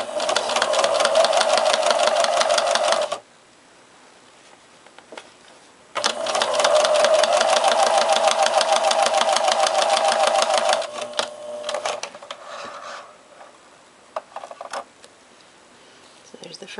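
Domestic sewing machine running a straight stitch to join fabric pieces, two long steady bursts of rapid mechanical whirring separated by a pause, then shorter stop-start runs and handling noises, close and loud.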